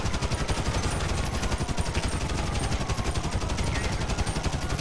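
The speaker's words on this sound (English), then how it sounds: "He's shooting at me," Continuous rapid gunfire in the video game GTA 5 during a street roleplay shootout, loud and dense bursts filling the whole stretch with little pause.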